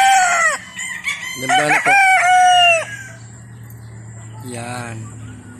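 Roosters crow repeatedly at a gamefarm for fighting stags, loud and close, with several drawn-out calls overlapping and clucking between them, while someone briefly speaks and a low steady hum runs underneath.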